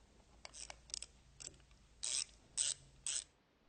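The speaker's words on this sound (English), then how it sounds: "Tighten the set screws in the front cover." Set screws being tightened in the front cover of a DESMI ROTAN gear pump: a quiet run of ratchet clicks, first short light ticks, then three louder, evenly spaced ratcheting bursts up close.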